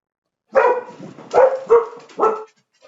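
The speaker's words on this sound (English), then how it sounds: "Sorry about my dog barking." A dog barks four times in an uneven burst, the barks close and loud, with brief pauses between them and silence before and after.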